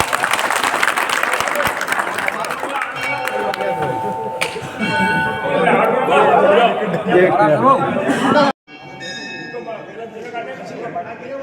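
A crowd at a confectioners' association gathering claps loudly for a newly elected president in a short burst, which gives way to chatter and people talking, with a sharp cut near the end.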